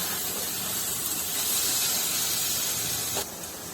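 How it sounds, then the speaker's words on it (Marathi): Paneer stir-fries in a hot pan for bhurji, giving a loud, steady close-up hiss of sizzling that drops away sharply just before the end. "तीन 4 मिनिटं चांगलं परतवून घ्यायचंय पनीर।"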